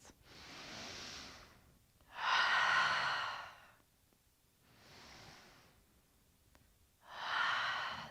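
Deep breathing during a gentle vinyasa yoga session, four slow, long breaths alternating between softer and stronger exhales, close and intimate with quiet pauses between them.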